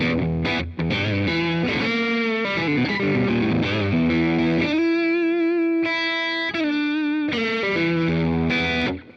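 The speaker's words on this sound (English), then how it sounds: "I just love the sound of these drives with my Strat." A Stratocaster electric guitar played through overdrive effects on a Helix Floor, gritty sustained chords and single notes with distortion, loud and close, no talking.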